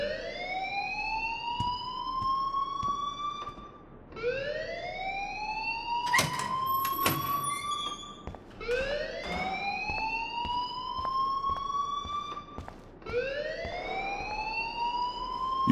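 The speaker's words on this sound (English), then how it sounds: "please turn off that alarm since that's your job." A school fire alarm in the video game Life Is Strange whoops in rising electronic tones, each sweep lasting a few seconds and repeating steadily, while clattering bursts and background noise sound beneath it.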